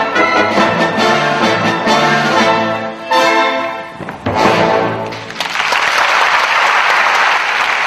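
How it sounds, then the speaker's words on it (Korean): Audience at a two-hour Don Quixote ballet performance breaks into loud, sustained applause for the dancers, dense clapping over music at first, then a swelling wash of clapping that fills the room toward the end. "두 시간가량의 돈키호테 공연이 끝나자 무용수들에게 뜨거운 박수가 쏟아집니다"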